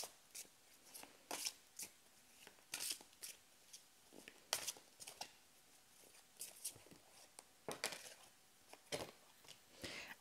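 Oracle cards being shuffled for a fairy oracle card reading, giving a quiet run of soft, irregular riffling and flicking bursts that come and go across the whole stretch, with no talk over them.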